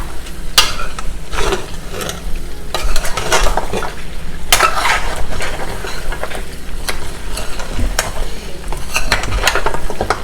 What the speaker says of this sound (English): Now I'm just mixing it so the bottom part won't burn.